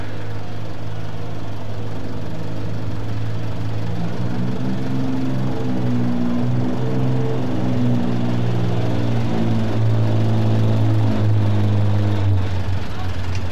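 John Deere pulling tractor at a farm machinery show tractor pull, its engine running in a loud, steady low rumble that rises gradually in pitch, with an announcer talking over it.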